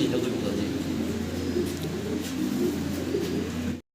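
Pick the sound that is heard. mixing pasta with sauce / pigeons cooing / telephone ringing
pigeons cooing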